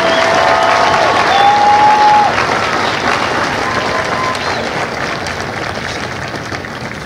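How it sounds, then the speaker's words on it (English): A large audience at a Marine Corps recruit graduation ceremony at MCRD San Diego applauds steadily in a wide outdoor space, the clapping sustained and gradually fading over several seconds. "Ladies and gentlemen, please join me in a round of applause for the company staff of Company D."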